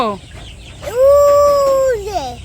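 A single loud, close chicken call rises and holds for about a second in a rural village yard where the hens are kept and watered, with quieter background noise around it.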